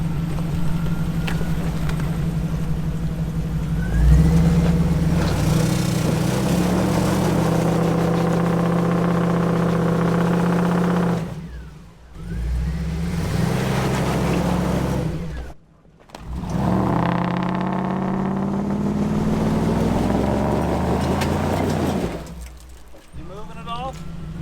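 An engine drones steadily, then revs up and strains in several rising surges with brief dips between, loud and close throughout.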